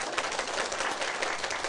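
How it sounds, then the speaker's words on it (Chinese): Audience applause at a closing address of a self-government academy session, steady dense clapping from a crowd filling the whole moment. "各位，甲尤先生拍手好冇"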